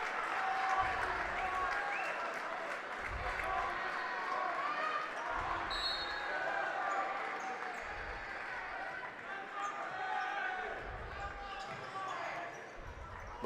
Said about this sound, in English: Crowd recognizes this game as well in hand. Gives the Stars a standing ovation.